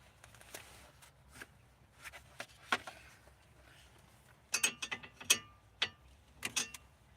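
A ratcheting wrench clicks in quiet, uneven runs, the small metallic ticks growing denser and sharper toward the end.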